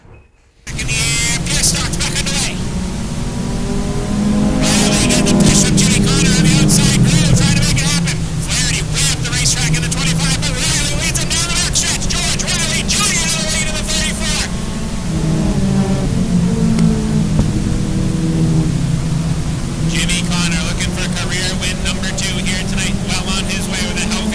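Race cars roar around the oval at Star Speedway during feature division racing, engines loud and continuous with passing swells and fades, while a commentator talks over the action throughout.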